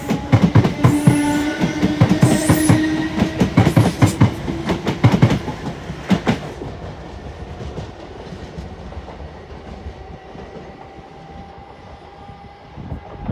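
A train pulls out of Clapham Junction on the South Western Main Line in London, its loud wheel clatter and rumble filling the first six seconds before receding into distant hum, with no one talking.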